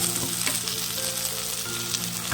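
Ground masala paste for a fish curry frying in a pan, a steady close sizzle and crackle with faint stirring throughout.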